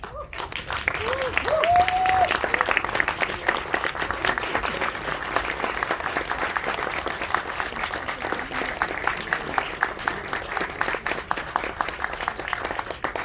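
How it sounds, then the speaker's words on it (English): A standing audience at a film session applauds at length, continuous full-room clapping, steady and moderately loud, with a brief whoop or cheer near the start. "I would like everyone to stand up and give them a big round of applause."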